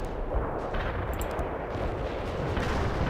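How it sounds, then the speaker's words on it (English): Heavy artillery strike in the World in Conflict strategy game: a dense, continuous roar of overlapping shell blasts and rumbling explosions, loud and sustained throughout with no speech. "Heavy artillery strike fire."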